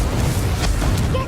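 A Confringo blasting spell explodes in Hogwarts Legacy, a dense, loud rumble of bursts and booms that fills the whole moment without a break.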